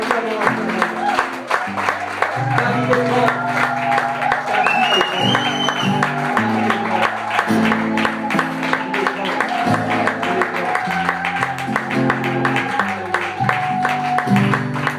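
A church congregation applauding during a sermon by the Prophet Patrick Djembe, steady rhythmic clapping throughout with music playing along.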